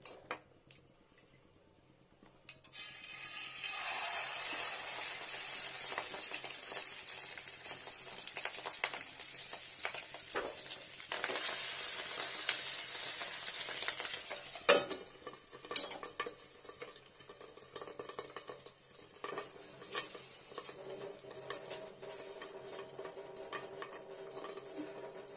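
Fish roe frying in oil in a pan for a Bengali fish-roe dish, a steady broadband sizzle that swells after a quiet start, with scraping and clinks of a utensil stirring against the pan and no talking.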